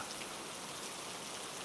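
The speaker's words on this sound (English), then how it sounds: "the rain taps" Steady rain falling on Paris cobblestones outside a midnight bakery, a soft continuous patter and hiss at low level with no distinct drops standing out.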